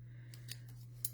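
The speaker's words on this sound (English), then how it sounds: "This time we're using scissors." Scissors cutting paper to make junk journal ticket pockets: a few faint crisp snips spaced apart over a low steady hum, close and quiet.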